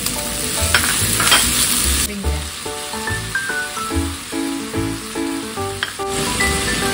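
Tofu stir-frying in a pan with chili and carrot, a steady close sizzle with scraping and stirring clatter throughout, and no talking.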